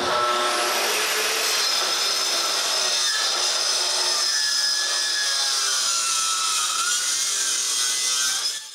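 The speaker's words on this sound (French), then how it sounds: "je peux la couper en 2." A live-edge wood board for a fireplace mantel is cut in two with a power saw, a continuous loud whining, rasping cut lasting throughout with pitch shifting as the blade works through the wood.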